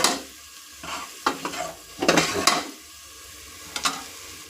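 Spices roasting in a hot pan for mutton sambar, stirred with a utensil in several scraping bursts over a soft steady sizzle, close and fairly quiet with no talk.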